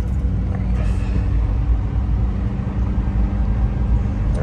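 A 1994 Subaru Dias Sambar micro van idles with a low, steady engine rumble, running continuously at close range.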